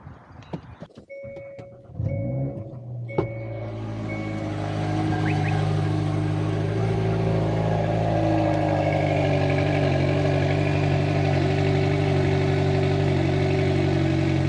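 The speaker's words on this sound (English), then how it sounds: "Cold start really isn't all that bad now." A few clicks and a cranking starter give way to a Hyundai Kona N engine catching on a cold start and settling into a loud, steady idle that drones on close by.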